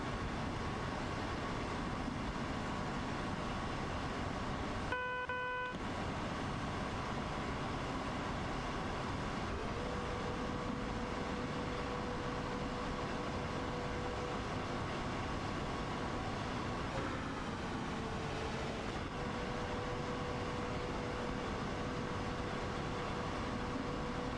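Passing train in Train Simulator World 2 on the Dresden–Coswig RE 18 route, a steady broadband rail rumble with humming tones throughout, a brief dropout near the start and a gliding pitch shift later, no talking.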